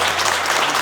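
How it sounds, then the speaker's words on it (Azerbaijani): Steady applause from a studio audience as a birthday cake is presented on a comedy talk show, dense clapping filling the short moment alone. "Alqışlayaq."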